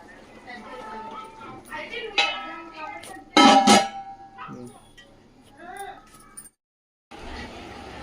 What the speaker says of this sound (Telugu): ఇంకా చేపల పులుసు ఆపేసుకొని మూత పెట్టేసుకుందాం